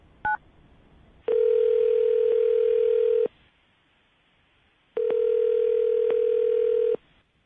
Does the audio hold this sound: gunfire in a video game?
no